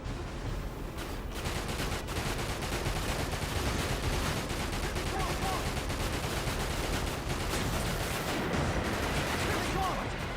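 Dense, continuous gunfire and shelling from a Final Fantasy VII: Dirge of Cerberus battle, loud rapid bursts running without pause, with game character voices shouting over it.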